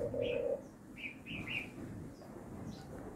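Birds in a home aviary chirp softly, with short high tweets and a lower cooing note over a quiet, faint background.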